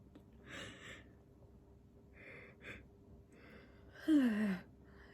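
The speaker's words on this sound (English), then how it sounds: "I do apologise, I've been yawning so much today." A person yawns close by, with a few soft breathy inhalations and then a longer, louder yawn with a falling voiced groan near the end, heard alone in a quiet room.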